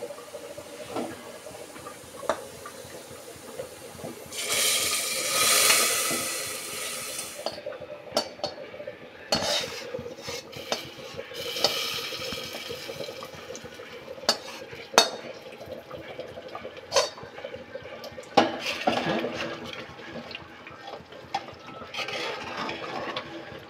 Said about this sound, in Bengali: এখন আমি নেহারের মধ্যে ঢেলে দিচ্ছি